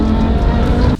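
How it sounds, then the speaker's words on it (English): A 5.7-liter V10 supercar engine originally developed for motorsport, making 612 horsepower, roars loud and close in a sustained high rev that cuts off abruptly near the end. "It revs like a race car and makes one of the best sounds in the supercar world."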